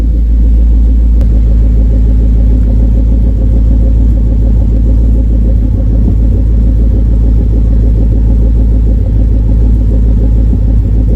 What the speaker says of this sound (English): this exhaust sounds fairly quiet at idle